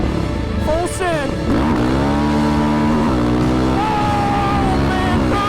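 A Yamaha Raptor 700 ATV with a blown head gasket launching in second gear, its single-cylinder engine revving loud and close with rising pitch sweeps as it accelerates, shifting and climbing again, while the rider talks over it.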